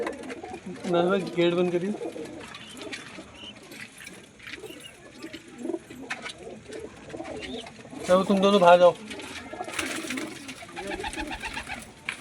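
Red Punjabi pigeons coo in soft, rolling bursts, one early and another louder near the end, with people talking and movement noises between them.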